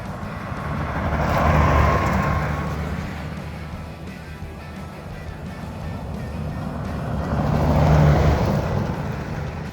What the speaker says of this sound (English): What we will have coming up now is the chase truck.